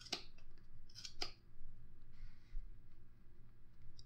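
Scissors snip through yarn while a small gnome's beard is being cut for a craft, giving two or three sharp, close, crisp cuts early on, then a quiet stretch with a low background hum and soft handling noises.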